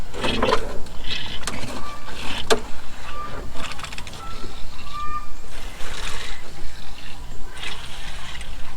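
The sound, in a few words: hand pump being pumped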